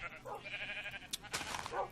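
Sheep bleat in the video game Minecraft with the Better Than Wolves mod, several faint wavering bleats close together over low game ambience.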